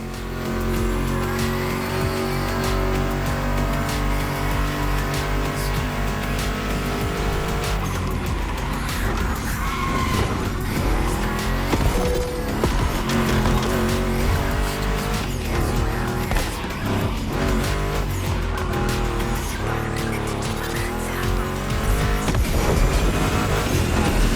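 A Ford Mustang GT muscle car in The Crew Motorfest roars steadily with engine revving, shifting gears and tires squealing through turns, loud and continuous with no talk.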